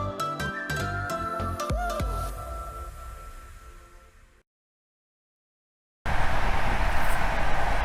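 Inside a commuter-style electric train on a long seated ride: tonal chime-like sounds fade into a brief silence, then a steady, loud rumble of carriage noise continues to the end. No talking.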